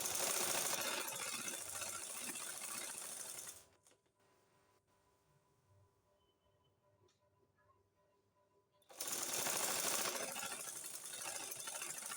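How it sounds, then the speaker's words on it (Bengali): Sewing machine stitching burqa fabric, a steady loud whirring run that stops for a few seconds of near quiet and then starts again, close up. "এখন আমি এভাবে সেলাই করে নিব"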